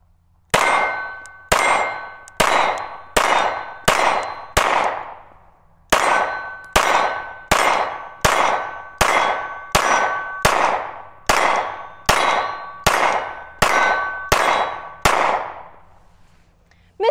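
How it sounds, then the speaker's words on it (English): Dan Wesson DWX 2011-style pistol firing at steel targets on an outdoor range: about eighteen sharp shots, each followed by a ringing metallic clang, fired in two quick strings with a brief pause between them and no talking. "But let's get into a little bit more shooting."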